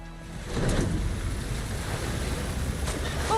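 A boat crosses open ocean waves in Horizon Forbidden West, leaving Fleet's End behind. Surf wash and wind rush roll on steadily and fairly close, with no voices over the water.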